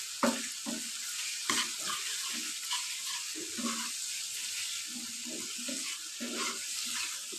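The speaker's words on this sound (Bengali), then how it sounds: "তো ভর্তাটাকে আমি তেলের ভিতরে দিয়ে দিয়েছি কালো জিরে দিলে খুব টেস্ট আসে" Long bean mash fried in oil with black cumin seeds, stirred continuously, makes a bright, even hiss of hot oil with faint intermittent stirring knocks throughout.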